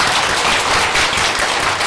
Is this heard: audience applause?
yes